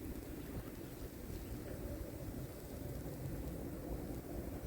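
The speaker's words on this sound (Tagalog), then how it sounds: "Sabay na malakas na hangin." Strong wind roars steadily through a Montreal snowstorm, a dense, unbroken rushing noise that stays loud and close without a break.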